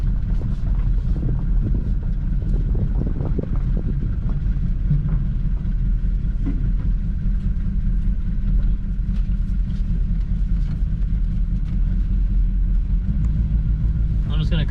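A 1963 Chevrolet Impala SS barn find rolls along slowly, its engine a steady low rumble with wind buffeting the microphone throughout and no clear speech.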